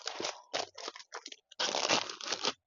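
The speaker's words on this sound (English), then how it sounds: "sorry, crunchy paper, the sizing" Crunchy, sized greeting-card paper crinkles and crunches in several close, loud bursts, with short pauses and then a longer stretch of steady crumpling.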